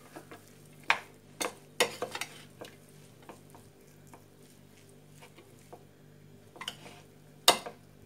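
Oil, ginger, garlic and green chilli being mixed into momo dough, with a few sharp clinks and scrapes of a spoon against a bowl spaced irregularly over soft, quiet stirring.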